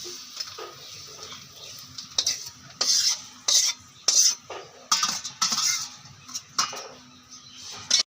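Fried bitter gourd and potato are scraped out of a wok onto a plate. A spatula clinks and scrapes against the metal in irregular bursts, with quiet gaps between them.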